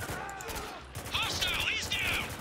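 Gunfire rattles in the war shooter Spec Ops: The Line, quick bursts of shots under shouted in-game voices, fairly close and dense.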